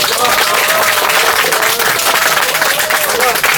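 Dense, sustained applause from a large crowd, loud and steady throughout, with cheering voices mixed in.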